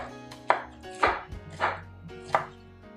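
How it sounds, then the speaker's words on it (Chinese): A knife chops through fresh pineapple into chunks on a cutting board, four distinct thuds at an uneven steady pace, close and clear with no talking. "凤梨切块。"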